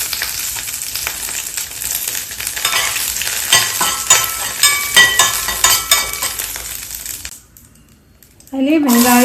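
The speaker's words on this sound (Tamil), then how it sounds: "சாம்பாருக்கு தாளிக்கிறதுக்கு கொஞ்சம் எண்ணெய் விட்டுக்கோங்க. அதில் கடுகு, கருவேப்பிலை" Mustard seeds and curry leaves sizzle and crackle in hot oil as tempering for sambar, a steady bright frying hiss with popping spurts that fades into near silence before a voice begins talking.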